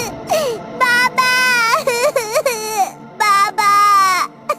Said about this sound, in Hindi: अपने बच्चे की रोती हुई आवाज सुनकर